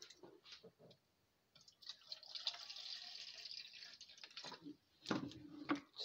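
A cup of distilled water poured into a crockpot: soft drips, then a faint steady trickle and splash close by, with no one talking.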